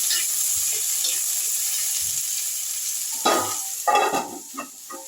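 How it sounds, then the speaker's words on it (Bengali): Pumpkin and brinjal pieces fry in hot oil in a pan, giving a steady close sizzle with occasional stirring clatter that grows louder near the end. "বেগুন কুমড়োটা আমি একটু ভাজা ভাজা করে দিচ্ছি।"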